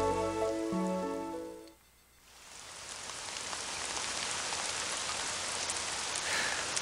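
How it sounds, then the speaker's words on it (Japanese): Rain falling in the horror adventure game Hayarigami 2, a steady hissing downpour that takes over after a brief musical passage fades out, continuing evenly and fairly close to the end. "雨はまだ降りついており、空には星はおろか月明かりさえ見ることはできない。"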